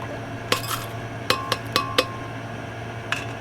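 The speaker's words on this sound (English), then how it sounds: "I'm going to put this back in the blender." Small BGA chip bottoms drop back into a blender jar, giving bright glassy clinks: a couple of isolated hits, then a quick cluster of four, then one more, close with a steady hum underneath.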